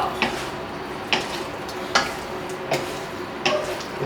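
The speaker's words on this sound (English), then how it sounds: "I'll just keep on tossing it. Coat everything up here." Sweet and sour pork tossed in a wok with the heat switched off: sharp rhythmic scrapes and clatters roughly every second over a soft sizzle, close and clear.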